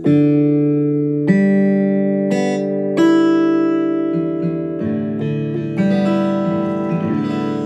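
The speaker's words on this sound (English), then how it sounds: "I think it makes like a sound to let you know that it's powered up." An AeroBand electronic practice guitar plays a bright synthesized power-up tune, a run of steady sustained tones changing pitch every second or so, loud and uninterrupted.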